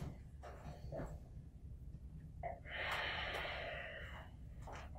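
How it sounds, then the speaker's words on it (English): Deep breathing held during an intermediate core-strength yoga pose: slow, audible breaths close to the microphone, a long airy exhale through the middle, with no talking. "Two more breaths here."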